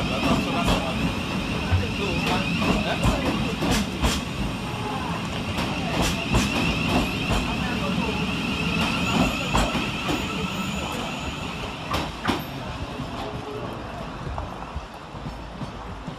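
A Class 700 Thameslink electric train, unit 700022, departs Strood station. A steady rumble and wheel clatter run throughout, with a high whine above them, and a person talks over the sound.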